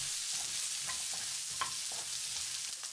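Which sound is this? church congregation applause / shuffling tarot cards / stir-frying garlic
stir-frying garlic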